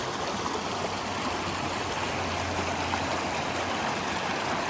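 Water of a stream along the Appalachian Trail rushing steadily, a close, loud and even broadband wash with no voices.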